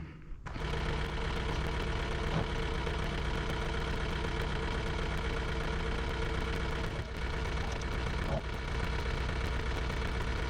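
A tractor engine runs steadily at a workshop, a continuous mid-pitched rattling drone with a slight knock, close and sustained, starting abruptly after a brief quiet moment.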